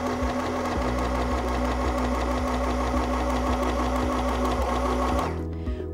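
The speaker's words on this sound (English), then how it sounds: "sew 3 to 4 stitches with a straight stitch" An M1000 sewing machine sews a few straight stitches, running with a loud, continuous, even mechanical hum for several seconds before it stops abruptly near the end.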